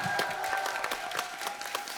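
Studio audience clapping on a comedy show stage after a sung duet, a steady close burst of applause with a faint tonal hum from the stage underneath.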